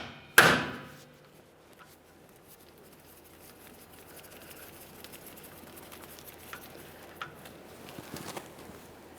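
One sharp loud metallic strike of an impact driver tapped against a Phillips screw on an Acura MDX rear brake rotor, then quiet with a few faint light taps and clinks later.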